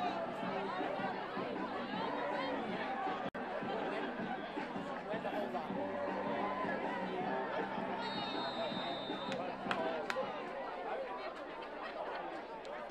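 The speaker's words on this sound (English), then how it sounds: "Back here at Hartford, a good crowd tonight" Steady crowd chatter from spectators at a Hartford high school football game under the night lights, a broad, continuous murmur of many voices with occasional louder calls, carrying on throughout without a break.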